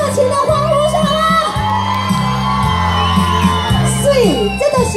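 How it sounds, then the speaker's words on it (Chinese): Enthusiastic crowd at a temple birthday festival evening show for the Earth God in Anping, Taiwan, whooping, shouting and cheering loudly over a steady bed of music. "听一下热情的欢呼声，好吗？"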